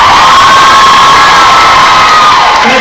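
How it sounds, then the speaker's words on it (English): A packed fan-convention audience roars during a Q&A, loud, continuous cheering with high-pitched screams and whoops over clapping, close and overwhelming throughout. "round of applause if you want her to ask a question"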